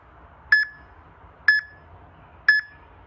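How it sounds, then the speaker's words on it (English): Workout app interval timer giving three short, identical electronic beeps about one second apart, clear and close with no voices. "it will beep again when you want to start exercising again"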